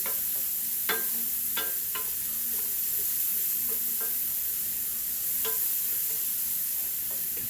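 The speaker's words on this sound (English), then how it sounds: "Now we're just going to cook this onion a little bit, just like you normally would, till it's somewhat transparent" Onion sautéing in a pan with rendered pancetta for a pork sugo with sage, giving a steady broadband sizzle with intermittent spoon scrapes and stirring knocks, close and continuous with no talk.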